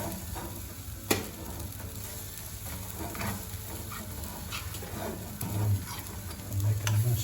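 Garlic frying in a pan while being stirred, a low steady sizzle with soft scraping stirs and one sharp clack near the start, close and fairly quiet.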